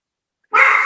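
A single dog bark, sharp and loud, bursting out after a half-second of silence and ringing briefly close to the microphone.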